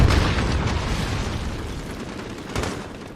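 A grenade blows up in the Call of Duty Modern Warfare campaign: a loud, close blast with a rumbling, slowly fading tail, then a smaller burst near the end.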